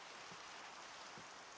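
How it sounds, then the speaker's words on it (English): Rain falls steadily in a Minecraft world, a soft, even, faint patter with a few slightly louder drops and no voices. "Enjoying the rain, my friend?"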